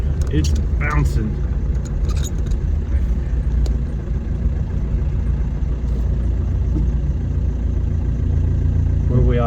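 An engine-swapped car with a TDI engine and a newly installed resonator idles at about 900 rpm with a steady low rumble, while some light clinks and rattles sound near the start.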